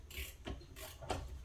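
A ratchet wrench clicks faintly during a Mazda CX-5 rear brake pad job, three soft rapid ratcheting bursts in quick succession with no voices.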